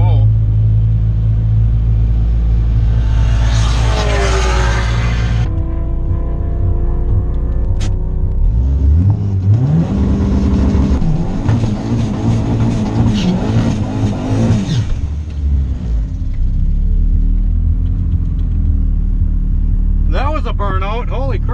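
A Honda car does a burnout at a drag race, loud engine revving in bursts with rising and falling pitch, close and dominant, with people talking over it.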